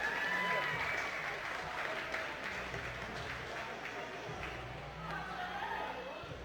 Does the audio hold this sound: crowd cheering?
yes